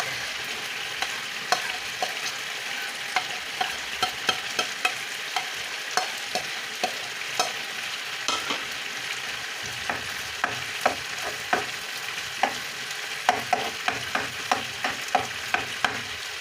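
Red onions and garlic fry in a pan for a wet-fry chicken dish, a constant close sizzle broken by regular scraping clicks of a spoon stirring, which come faster toward the end.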